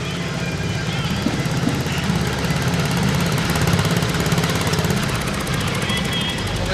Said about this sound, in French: Alors, ce moteur, il marche?